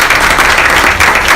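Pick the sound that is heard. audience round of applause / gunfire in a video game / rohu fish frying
audience round of applause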